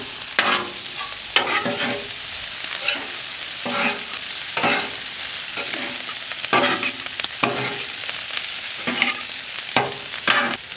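Egg frying and being stirred into rice at home in a Benihana-style hibachi dish, with continuous sizzling and repeated scraping strokes of stirring throughout, close and loud.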